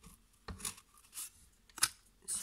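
Scissors cut through basket material, their thick blades working into a small slit: four short, crisp snipping bursts spaced about half a second apart, close and fairly quiet.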